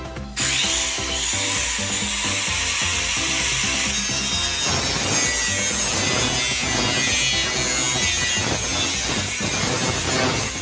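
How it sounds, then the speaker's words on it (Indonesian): An angle grinder cuts through a metal pole, giving a loud, continuous, harsh grinding whine with a bright metallic edge. It holds steady for about ten seconds, close and without voices. "maka langsung saja kita potong terkait tiangnya menggunakan gerinda"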